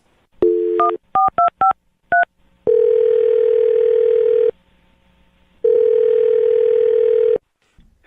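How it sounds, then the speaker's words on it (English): Telephone keypad tones beep one after another as a number is dialed, then loud steady ringback tones sound twice with a pause between them. "I'm going to dial his phone number right now"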